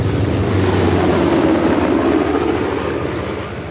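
Helicopter flying in Uncharted: The Lost Legacy, a loud, steady low rotor drone with a rumbling engine, holding close and fading slightly toward the end.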